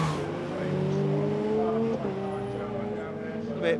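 Lotus race cars circulating behind the safety car at Snetterton, giving a steady, fairly close engine drone with some rising pitch, under a race commentator's talk.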